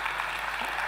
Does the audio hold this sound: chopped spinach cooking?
no